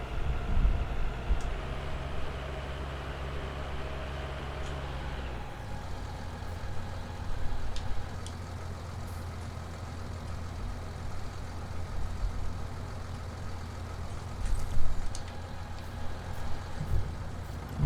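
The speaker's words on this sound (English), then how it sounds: "Well, it's pulling the trailer." Logging truck engine hauling a trailer in Farming Simulator 19, a steady loud low diesel drone that shifts pitch partway through, with faint clanks on top and no talking.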